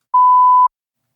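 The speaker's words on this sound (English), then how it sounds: "test oscillator is just a tone, as you can hear." A steady electronic test-oscillator sine tone from Logic Pro, heard as one clean, loud beep lasting about half a second, then silence.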